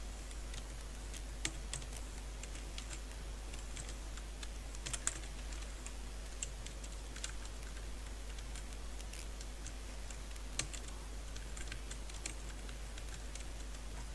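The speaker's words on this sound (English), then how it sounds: "Here I am typing like this here." Light, irregular clicking of a computer keyboard being typed on, soft and close, with a few sharper keystrokes over a low steady hum.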